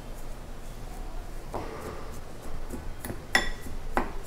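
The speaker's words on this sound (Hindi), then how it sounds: "अब ये सारी चीज़ों को हम मिक्स कर लेते हैं गुड़ के साथ" A spoon stirs jaggery together with ground almond and cashew powder in a bowl, giving soft scraping and a few light clinks of metal against the dish, close and fairly quiet with no talking.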